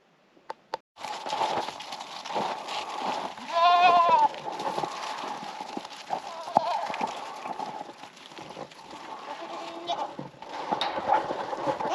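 Kiko goats bleating outdoors in cold weather, several wavering calls standing out midway over a steady background of rustling, footsteps and farm noise, with a few sharp clicks at the start.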